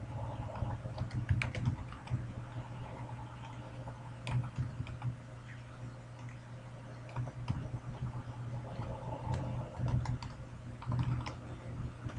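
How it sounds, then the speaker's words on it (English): Typing on a computer keyboard in bursts of quick, close key clicks separated by short pauses, with a steady low hum underneath. "we just filled out the name and username, email address, and password for Mr. Noob."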